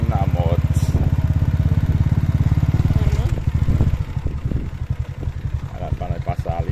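A motorcycle ridden along a rural dirt road, its engine droning steadily and close throughout, with someone talking over it for much of the ride.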